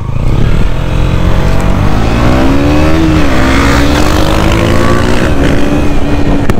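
A KTM Duke 125 motorcycle accelerates, its engine loud and close and steadily rising in pitch as it revs through the gears, with no pauses.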